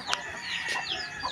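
Backyard chickens clucking softly at close range, a few short calls over low ambient noise.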